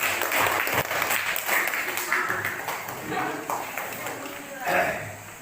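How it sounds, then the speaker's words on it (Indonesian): A room of participants closing a classroom discussion claps together, a dense burst of hand claps that swells and fades over several seconds, with voices mixed in. "mari untuk menutup ini kita tepuk tangan masing-masing. Aplaus satu kali."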